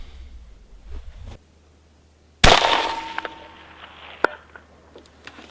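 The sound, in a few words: long-range rifle shot at a snow-covered target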